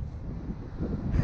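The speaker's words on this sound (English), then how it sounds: "Look, it's even windy." Outdoor wind buffets the microphone while a DJI Ryze Tello drone flies, producing a continuous low, rough rumble with gusty swells and no speech.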